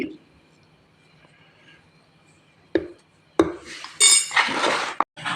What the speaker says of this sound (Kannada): ನೋಡಿ ಈ ರೀತಿಯಾಗಿ ಪೂರ್ತಿಯಾಗಿ ಮಿಕ್ಸ್ ಮಾಡ್ಕೊಳ್ಳಿ